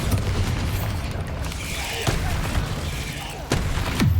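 In the Hogwarts Legacy video game, the Bombarda spell goes off with sharp booming blasts against a dense backdrop of combat noise, with two or three distinct hits, the loudest ones toward the end.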